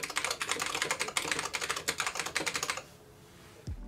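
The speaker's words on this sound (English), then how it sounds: "There's just something about the travel and steady clack of these keys that's almost therapeutic." Fast, steady typing on the keyboard of an IBM PC Convertible 5140 laptop, a dense run of crisp clacking keystrokes close up, stopping abruptly before a brief low thump at the end.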